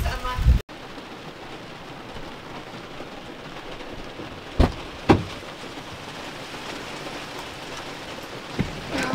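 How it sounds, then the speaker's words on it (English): Heavy rain pours in a dense, continuous hiss, with a few sharp knocks and clicks standing out briefly above the steady downpour. "Oh, it's raining really hard actually."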